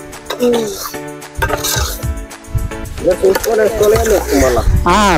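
A spoon clatters and scrapes inside a pot as Telangana-style chicken curry gets stirred, with short metallic knocks and scraping bursts, while a person talks over the cooking noise.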